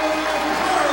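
Home fans at a high school basketball game roar steadily after a breakaway dunk by the Quakers, a loud, continuous crowd wash with no break for the full second.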